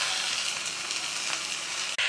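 Chicken pieces frying in a pan with browned onion, garlic, ginger and green chilli give a steady, dense sizzle that holds level throughout, then cuts out for a split second near the end before resuming.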